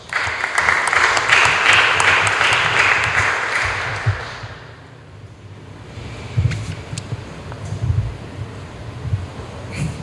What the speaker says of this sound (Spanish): al cual le brindamos un fuerte aplauso para sus palabras finales